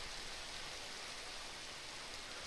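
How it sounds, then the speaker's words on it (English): Steady rain falls outside, a soft, even hiss that stays constant and fairly faint from start to finish with no voices over it. "it's raining outside again."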